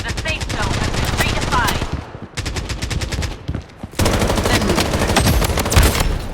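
Gunfire rattles through a Blood Strike match, long bursts of rapid automatic fire with short pauses between volleys, loud and close, with voices faintly mixed in.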